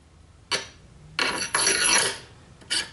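A steel barrel nut slides and rasps onto the aluminum threads of a rifle receiver, giving a few close, dry scraping bursts with short pauses between them and no talk over them.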